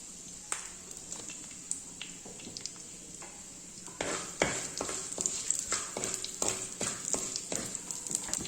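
Fenugreek seeds and curry leaves hit hot oil for tempering, starting a sharp crackling sizzle that grows busier partway through, with a few spoon stirs and pan clinks.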